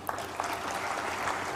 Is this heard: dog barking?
no